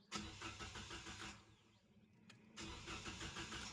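A car fitted with a hidden anti-theft ignition cutoff is started with the key, giving a close, loud starter crank that fires into a running engine, a brief pause, then another cranking start.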